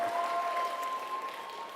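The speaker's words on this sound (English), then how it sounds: "Alexandra, everybody, huge round of applause." Applause from a large crowd at an Erasmus Generation Meeting opening plenary in Ancona, a steady, moderately loud blur of clapping with a faint tonal whine running through it.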